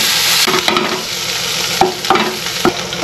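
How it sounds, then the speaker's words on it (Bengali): Boiled potatoes stirred into fried spices in a pan: a constant close sizzle with several sharp scraping strokes of a spatula, no talking. "দুটো আলু দিয়ে দিলাম, দিয়ে একটু এই মশলার সঙ্গে মেখে নেব"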